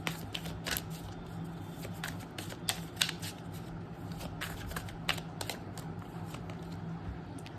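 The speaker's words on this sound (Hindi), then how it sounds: "तो फटाफट कार्ड शफल कर लेते हो" Tarot cards shuffled rapidly by hand, a dense run of crisp riffling flutters and sharp snapping slaps, close and steady throughout with no talking.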